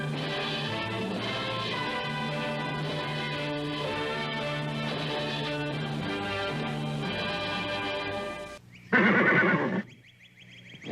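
Horse whinny from the opening of the 1960s Mister Ed TV show, a loud, shrill neigh bursting out near the end after sustained theme music, then cutting off.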